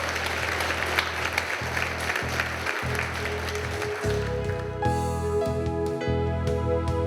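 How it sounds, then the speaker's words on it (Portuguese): Congregation at a Catholic Mass applauding, dense clapping from the start that soon has organ or keyboard chords and music swelling under it before the applause fades into the playing. "Vamos dar mais uma salva de palmas para todos os pais."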